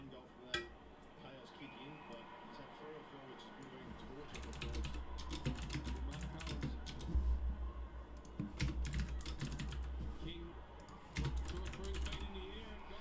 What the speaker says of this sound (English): just typing something out